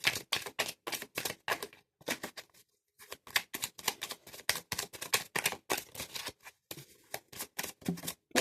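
Tarot cards being shuffled by hand, a quick run of crisp riffling bursts in close succession with short pauses between, near and clear with no talk.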